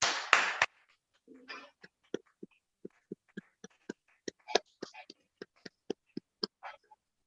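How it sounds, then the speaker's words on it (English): Sparse applause from a small online Toastmasters club meeting audience welcoming the club president: a few dozen isolated, evenly spaced claps, thin and close, after a brief burst of noise and a murmur at the start. "Join me with a rapturous, rousing round of applause"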